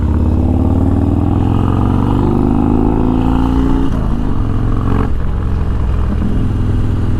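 A loud Harley-Davidson Dyna motorcycle rides close by. Its engine rumbles and rises in pitch as it accelerates, then a clattering shift settles into a steady roar.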